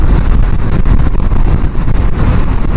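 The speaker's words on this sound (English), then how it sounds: "the wind is very, very windy coming from my left hand side as I'm riding" Strong wind buffets the microphone on a moving motorbike, a constant loud roaring rumble with gusty low-end fluctuations throughout and no speech.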